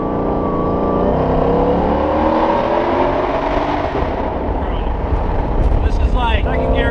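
A high-horsepower car accelerates hard in second gear, its engine note rising steadily and loud from inside the cabin, with people talking over it throughout.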